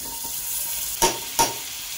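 Butter heating in a hot kadhai for mushroom masala bhaji gives a soft, steady sizzle, with two sharp clinks from a utensil near the middle, close and fairly quiet.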